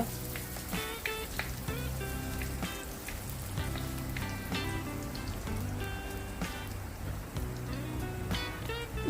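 Green chillies and ginger fry in hot oil for a mango fish curry, giving a steady, close crackling sizzle with dense popping spatters throughout and no talk.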